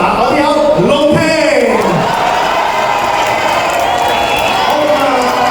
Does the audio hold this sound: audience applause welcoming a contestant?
yes